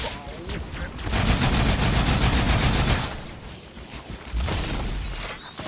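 Dual needlers firing in Halo 2, a dense, loud stream of rapid crackling shots in two bursts separated by a brief lull, with faint game noise around them.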